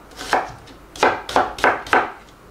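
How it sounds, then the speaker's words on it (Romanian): A knife dices onion into small, medium-sized cubes on a board, giving five crisp close chops: one alone, then four in a steady rhythm, with no talk. "Și am să o tai în cuburețe mici,"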